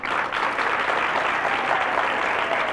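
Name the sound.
audience applause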